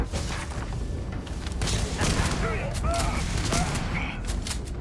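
Gunfire in the space game Starfield, a dense rattle of shots and booms under game voices and effects, loud and continuous throughout.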